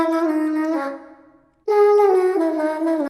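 A dark vocal chop loop from Splice sings sustained, pitched vocal phrases, fading into a brief silence before the chopped voice returns loud and close.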